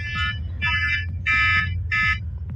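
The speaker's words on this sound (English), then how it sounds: "if you heard an alarm, that was my phone." A phone alarm rings in repeated electronic bursts, four steady beeping pulses in a regular pattern, loud and close over a low background hum.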